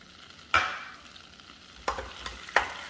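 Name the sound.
butter and light brown sugar melting in a pan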